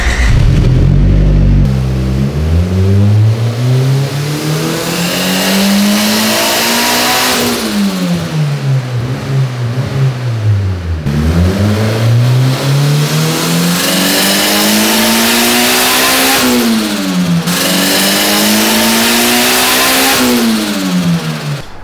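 A turbocharged Honda B18 engine on a dyno, revved through several full pulls: loud, close, and continuous, climbing in pitch with each sweep, then dropping and climbing again, with no voices.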